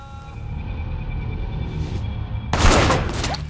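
Gunfire in a shooter video game: a steady electronic hum, then one sudden, loud burst of shots partway through that leaves a noisy rumbling tail.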